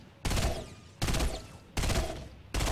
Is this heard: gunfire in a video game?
yes